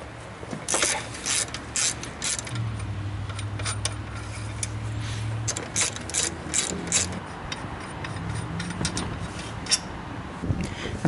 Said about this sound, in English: Take a 15mm and remove the two lower alternator bolts.